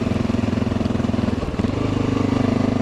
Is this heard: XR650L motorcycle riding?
yes